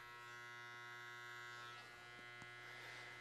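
An electric trimmer buzzes steadily and quietly with a constant hum as it shaves a man's neckline during a classic business haircut, with small changes in tone as it touches the hair.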